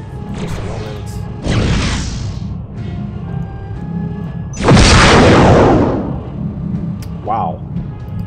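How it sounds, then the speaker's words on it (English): Missiles launching and exploding in the Star Trek Starfleet Command video game, two loud whooshing blasts several seconds apart over a steady engine hum, with someone talking in between. "that is a lot of missiles"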